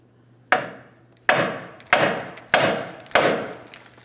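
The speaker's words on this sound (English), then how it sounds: "We're going to tap on the knuckle in this area, causing vibration" Five sharp metallic hammer strikes on the steering knuckle of a 2007-2014 GMC Sierra 2500 HD during a lower ball joint replacement, each blow ringing briefly, spaced roughly half a second apart, close and loud in a quiet shop.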